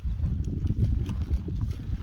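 A horse with zebra-like striped markings on its back clops its hooves in a steady, uneven rhythm, close by and fairly loud, with no voices over it.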